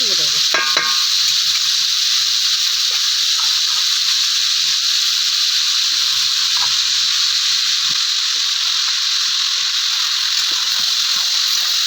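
Vegetables and leftover rice stir-fry in a pan with a steady, close sizzle, and brief clinks of stirring sound near the start; no one speaks.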